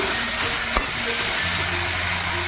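A paste of cumin, coriander and salt fries in a pan with a steady broadband sizzle and hiss, one brief knock from stirring, with no talking.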